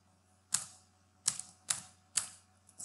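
Four sharp, separate keystrokes tap on a computer keyboard while code is typed, spaced irregularly with quiet gaps between them.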